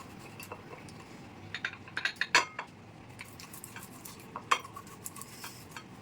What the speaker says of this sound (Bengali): এই আলুটাকে একটু ম্যাশ করে নেব